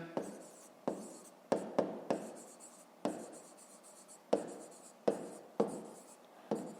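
Pen strokes on paper write out a fifth-grade maths answer in Ukrainian, a series of short scratchy bursts with sharp starts and brief pauses between, close and quiet.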